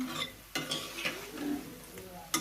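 Palm fruit fritters fry in oil, a close sizzle broken by several sharp clinks and scrapes of a utensil against the pan at irregular intervals.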